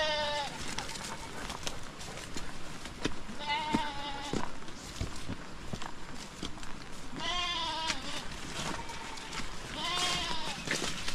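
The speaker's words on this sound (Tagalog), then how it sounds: "kambing na may busal" A muzzled goat bleats in several short, strained calls spread across the stretch, close and fairly loud, over steady background noise from a farm during heavy rain.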